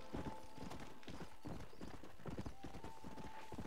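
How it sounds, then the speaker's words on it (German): Horse hooves gallop across open country in the video game Red Dead Redemption, a fast, steady, close clip-clop rhythm that runs continuously over a low ambient background. "Da rennt mal wieder irgendein Pferd quer durch die Pampa"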